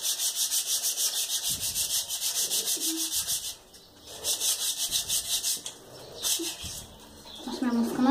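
A bike handlebar is sanded by hand in steady, rhythmic scraping strokes, loud and close, pausing briefly before resuming, while someone speaks over it and a bird calls faintly in the background.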